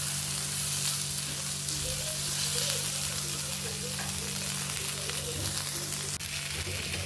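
Paneer sizzling and being stirred on a hot tawa with coriander, a continuous close-up crackling fry with occasional scraping and stirring sounds, steady throughout with no talk.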